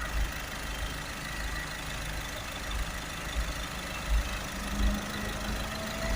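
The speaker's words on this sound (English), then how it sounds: "So we'll just start the vehicle up there" A Ford Transit Connect 1.5 van engine idles steadily nearby, a low continuous rumble with a few slight surges in the low end; the van has a particulate filter restriction fault.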